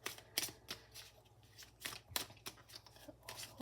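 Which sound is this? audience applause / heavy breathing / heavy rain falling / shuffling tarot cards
shuffling tarot cards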